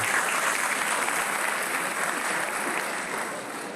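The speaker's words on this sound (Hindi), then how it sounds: "उनके लिए भी ताली बजाकर जोरदार स्वागत है" A dense, steady wash of audience applause at a university Independence Day celebration welcomes the ex-army soldiers present. It holds loud and even for about four seconds, then eases off slightly at the end.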